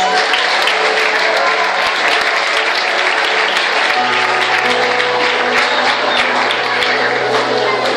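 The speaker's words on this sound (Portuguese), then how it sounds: "Vamos aplaudir ao Senhor glória a Deus." A church congregation applauds during a worship service: loud, continuous clapping from a large crowd, sustained evenly from start to finish with a low musical tone underneath.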